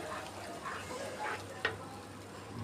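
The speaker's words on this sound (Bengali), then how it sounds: "মশলাটাকে খুব ভালো করে কিন্তু ভেজে নিতে হবে" A spice paste of almonds, nuts, onion and green chili frying in a pan for chicken pulao, a low, steady sizzle with soft stirring scrapes and one brief clink.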